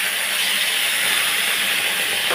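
Tomatoes hit hot mustard oil and give off a loud, dense, unbroken hiss and sizzle close up.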